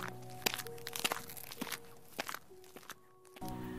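Footsteps crunching toward the listener from the fields, a sound effect in a Hindi audio story: a series of uneven, close steps with crisp crackles, set over a faint steady hum.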